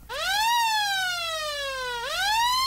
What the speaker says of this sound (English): I can hear the police sirens